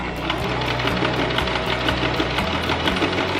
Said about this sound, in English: So let's bring this to the sewing machine.